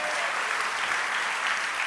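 A church congregation applauding during a Sunday worship service, with steady, dense clapping sustained throughout and no pauses.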